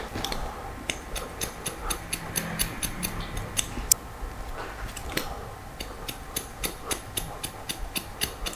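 Scissors cutting hair during a textured crop haircut, a quick run of sharp, crisp snips in an irregular rhythm, close and fairly quiet, heard alone without talk.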